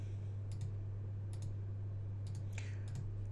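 Mouse clicks while deleting CAD menus in LightWave 3D software, a handful of faint, quick clicks spaced out over a steady low electrical hum.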